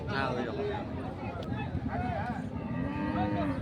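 A cow moos loudly and close by, with a long low bellowing call, while people talk in the background at a cattle market selling Indian bullocks and bulls.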